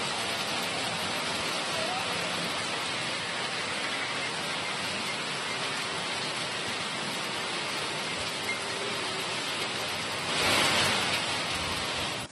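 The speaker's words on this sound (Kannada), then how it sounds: "ಬೆಂಗಳೂರು ಸೇರಿದಂತೆ ರಾಜ್ಯದ ಹಲವೆಡೆ ಮಳೆ ಅಬ್ಬರ ಜೋರಾಗಿದೆ" Heavy rain pours steadily in Karnataka, a dense, loud, unbroken wash of falling water with a slight surge near the end.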